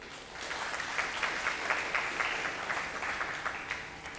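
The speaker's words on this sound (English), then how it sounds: "Round of applause, please, for Jamie Lee." An audience at a vocal competition show applauds, a dense steady clatter of many hands clapping throughout.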